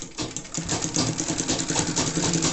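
A sewing machine top-stitches the pocket of a women's trouser, running in a continuous fast mechanical whir close by.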